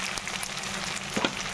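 Food fries in a hot pan while katla fish curry is being cooked, a close, steady sizzle and crackle with a soft stirring scrape and no talking.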